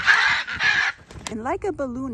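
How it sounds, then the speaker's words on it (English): Pet birds on harnesses scream loudly in a forest, a harsh, honking burst of squawks repeated twice up front, followed by a person speaking close by. "my bird started screaming"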